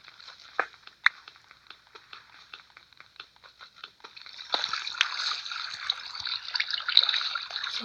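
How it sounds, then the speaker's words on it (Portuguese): Flowing water in the Minecraft video game, a soft splashing trickle with scattered clicks at first, then thickening into a steadier, louder gush over the second half. "Água."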